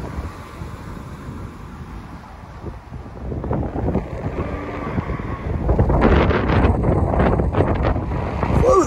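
Strong gusting wind buffets the microphone outdoors in Chicago, with heavy low rumble that builds and grows louder and more turbulent in the second half, no speech.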